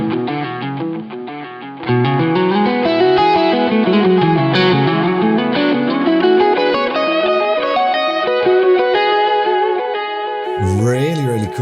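Electric guitar played through a flutter-style delay in a Two Notes Genome amp simulator, loud sustained chords and notes with wobbling repeats smearing into each other, a brief voice at the end.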